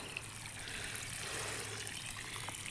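Water leaks from a disconnected joint in a drip irrigation pipe, making a faint, continuous trickle that stays low and steady from start to finish.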